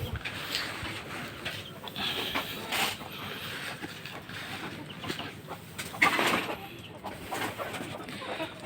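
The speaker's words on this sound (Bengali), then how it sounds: "আর এই জন্য খাবার নিয়ে মুরগির মারামারি চলতেছে।" Chickens squabble over grain feed on a farm around midnight, with scattered clucks and sharp squawks breaking out in short bursts over a steady background hiss.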